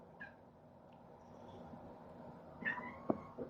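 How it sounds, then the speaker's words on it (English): Indoor cat meowing at a bird: faint, short meows and chirps, two or three brief calls spread across a quiet room background, one near the start and a cluster near the end. "My cat is meowing at a bird, excuse her."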